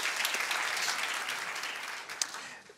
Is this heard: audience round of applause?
yes